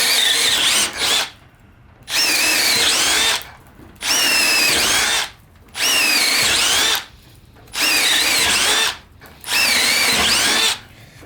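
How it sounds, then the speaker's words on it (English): A cordless power drill whines and squeals through wood in five long bursts, separated by short pauses, loud and close. "drill 6 holes with this now."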